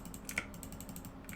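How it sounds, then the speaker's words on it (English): Computer mouse buttons click in a rapid, fairly regular series of light, crisp taps while firing in a shooter game. "Lots of mouse clicks."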